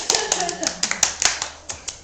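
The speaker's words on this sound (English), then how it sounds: "Round of applause." A small group claps in a short burst of applause at a family Christmas gathering, with quick uneven hand claps close by and a voice faintly mixed in.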